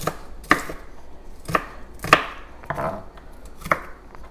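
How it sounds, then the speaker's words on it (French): An onion is chopped by hand with a knife for a tilapia pepper soup, with about six separate sharp blade knocks on a board at an uneven pace, close and clear with no talk. "on va hacher l'oignon à la main"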